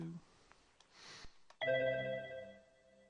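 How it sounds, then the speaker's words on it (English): An incoming call rings on a telephone partway through, a bright sustained electronic tone that starts abruptly after a few quiet knocks and rustles, fairly faint in a quiet room. "I'm going to get this phone call"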